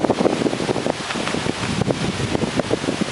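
Strong typhoon wind roars and buffets the microphone in continuous gusts, with rustling and rushing noise throughout and no voices.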